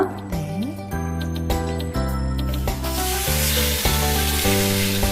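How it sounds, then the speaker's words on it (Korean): Steady, dense sizzling of pork frying in a hot pan, loud and close, with a soft tonal hum running underneath. "지글지글 고기 익는 소리가 식욕을 돋구는데요"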